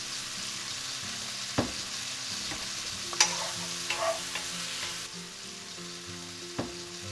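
Tomatoes sizzle steadily while being stir-fried in a pan for tomato egg drop soup, with occasional clacks and scrapes of utensils against the pan.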